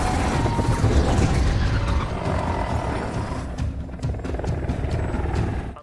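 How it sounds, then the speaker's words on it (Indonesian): Film helicopter after its transmission explodes, a loud roaring rotor and engine rumble with mechanical grinding that gradually fades and thins, followed by sharp clattering impacts near the end. "salah satu transmisi helikopter itu meledak. Akhirnya, helikopter itu pun oleng."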